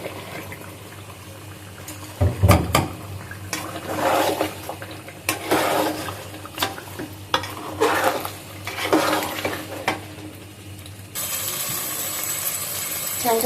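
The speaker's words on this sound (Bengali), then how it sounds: "এখন আমি দিয়ে দিব চালটা দিয়ে আমি কিছুক্ষণ আবার ভেজে নিব" Rice fried with cooked meat for biryani is stirred in a pot, giving repeated scraping and clinking utensil strikes in irregular bursts, close and prominent, over a low background hum.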